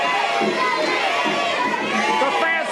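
Fans at a live wrestling match cheer and shout steadily, a loud, close crowd roar with excited high voices mixed through it and no break.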